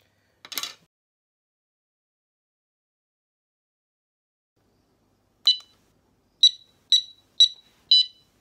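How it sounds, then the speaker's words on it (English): Short electronic beeps from a van alarm being programmed: one chirp, a long silence, then a run of five sharp high chirps in quick succession. "van alarm"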